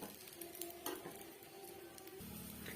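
An omelette cooking in a pan gives a low, steady sizzle with a few soft scraping stirs of a utensil, fairly quiet, with no talking.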